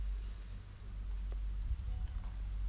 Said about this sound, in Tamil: அதிகமாக சூடு இருந்ததுன்னா பக்கோடா கருகி போயிடும், அதனால் மிதமான சூட்டில் வச்சு வேக வச்சுக்கோங்க